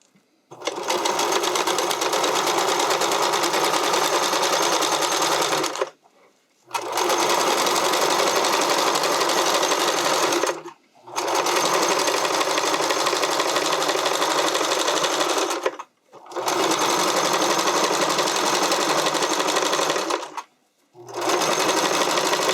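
A sewing machine runs steadily while stitching elastic onto a figure skating skirt, with four long, even bursts of whirring separated by short pauses, close and loud with no talking.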